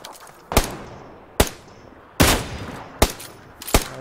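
Gunfire aimed at vehicle tyres in PUBG Lite: five sharp, loud single shots spaced roughly a second apart, each with a short decaying echo, no talk.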